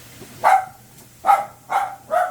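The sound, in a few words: dogs barking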